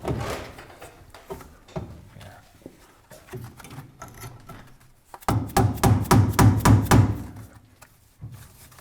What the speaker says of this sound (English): Grab a mallet. Sometimes you gotta get a little tappy with this.